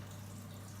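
Water runs steadily from a kitchen sink tap as it warms, a continuous close hiss and trickle with a low steady hum underneath.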